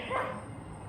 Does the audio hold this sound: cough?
no